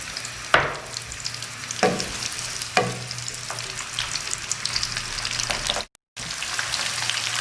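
Onion frying in hot oil, a steady sizzle with a few sharp crackles and pops early on, moderately loud, a brief dropout near the end, no voices.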